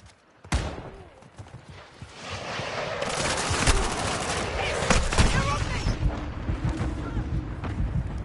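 Artillery barrage from a called-in fire mission in a video game: a sharp blast opens, then a dense, sustained rumble of overlapping shell impacts and crackling gunfire continues to the end.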